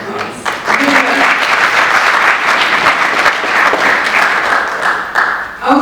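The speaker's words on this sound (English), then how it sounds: "Round of applause." An audience at a holistic health conference breaks into loud, sustained applause that builds quickly and holds steady for several seconds. Cheers or voices are faintly mixed in.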